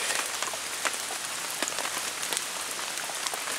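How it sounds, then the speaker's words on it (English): Steady rain falls outdoors on plants and an umbrella, a dense, even hiss of drops with no talking, close and constant throughout. "We normally don't have that much rain."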